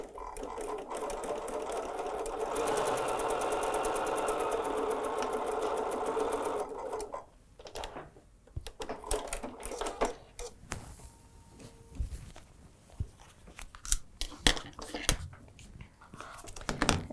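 A sewing machine stitches quilt fabric in a steady, fast whirring run for several seconds, then stops, followed by quiet handling noises, clicks and soft taps of fabric and tools close by.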